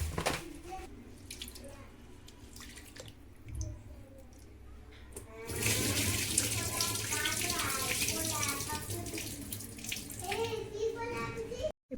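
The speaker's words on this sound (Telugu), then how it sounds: "ఇది కడిగి నానబెట్టుకోవాలి" Basmati rice being washed in water before soaking for biryani, with a faint splash early on, then steady close running and sloshing water, and a voice talking over it.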